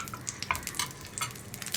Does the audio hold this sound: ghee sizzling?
yes